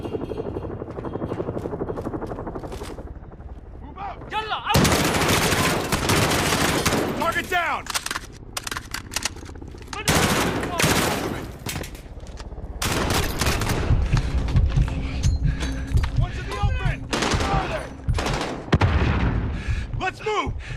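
Rapid bursts of automatic gunfire rattle repeatedly in Call of Duty: Modern Warfare, mixed with a helicopter's droning thump and game-style battle noise, with a voice talking over it.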